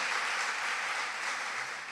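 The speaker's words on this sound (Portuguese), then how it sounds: "Pode aplaudir o Senhor" A church congregation applauds in a brief, steady wash of many hands clapping, heard at a moderate distance and fairly soft, with no voices standing out.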